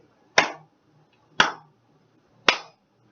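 Three slow, loud hand claps, evenly spaced about a second apart, each a sharp crack with a short decay against a quiet background.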